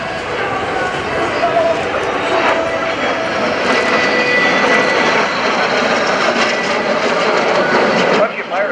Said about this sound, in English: These maneuvers are used to move a formation of aircraft around the airspace more conveniently, more effectively, more efficiently.